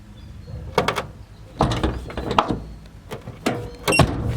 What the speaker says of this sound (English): But the door kind of hits a little right there.